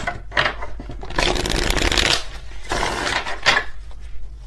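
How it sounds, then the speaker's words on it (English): Tarot cards being shuffled up close, several quick riffling bursts of papery flutter separated by short pauses. "Let's do one more shuffle just in case."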